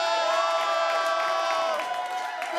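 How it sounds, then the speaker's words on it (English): Comedy club audience clapping and cheering for a warm-up comic, a loud steady wash of applause with whoops and shouts from the crowd. "Keep the applause going for Michael Connell!"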